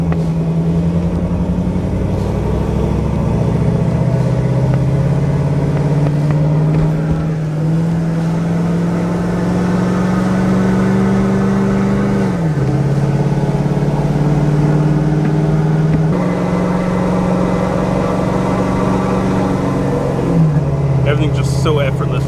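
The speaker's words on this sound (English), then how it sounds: "Rumble of the diesel motor." A 2.3-litre-class turbo diesel truck with its DPF deleted rumbles deeply and steadily from close by. The engine swells and dips in pitch a few times as it revs and eases off.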